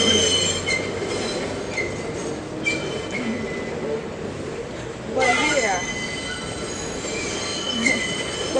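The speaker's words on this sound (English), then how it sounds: "I know the train is coming through" A train rolls past close by, its wheels screeching in high sustained squeals that rise and fall over the steady rumble of the cars, with louder bursts of squealing partway through.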